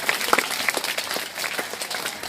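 Lively, sustained clapping from a crowd at a school Independence Day ceremony, with many hands beating together at a steady, busy pace.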